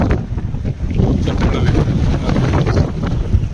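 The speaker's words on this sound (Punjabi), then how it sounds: "ਤੁਹਾਨੂੰ ਹਵਾਵਾਂ ਤੇਜ਼ ਹਵਾਵਾਂ ਅੱਜ ਸਭ ਤੋਂ ਜ਼ਿਆਦਾ ਯਾਨੀ ਕਿ ਜਿਹੜੀ ਸਨੋ ਤਾਂ ਪੈ ਹੀ ਰਹੀ ਹੈ ਤੇ ਹਵਾ ਤੇਜ਼" Strong wind roars steadily through a Canadian snowstorm, battering the microphone with heavy low rumbling gusts that never let up.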